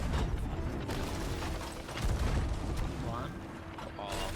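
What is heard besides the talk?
cannons firing chain shots, video game Sea of Thieves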